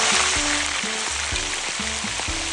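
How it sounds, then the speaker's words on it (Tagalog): Marinated liver frying in hot oil in a pan, giving a loud, steady close-up sizzle with a regular pattern of popping, spattering bursts throughout. "start ko na silang prituin."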